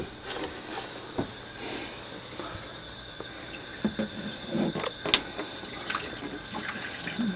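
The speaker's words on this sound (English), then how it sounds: "just going to pour it in the header tank." Sentinel X100 central heating inhibitor is poured into a header tank during a power flush, a quiet trickling splash broken by scattered knocks and clunks of the container, with no talking.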